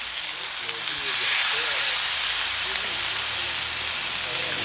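Slices of white tuna about 2 cm thick searing on a hot plancha without oil, giving a steady, loud sizzle and hiss that continues throughout.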